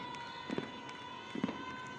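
Fireworks during the finale of a pro softball game: two distant booming bursts about a second apart over a steady background hum.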